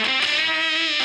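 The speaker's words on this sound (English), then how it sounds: "That kind of 60s fuzz thing" Fuzzy, saturated 60s-style guitar tone from a JPTR Silver Machine Mini fuzz pedal run into a cleaner drive, a dense sustained chord ringing steadily and loud with a fresh pick attack near the start.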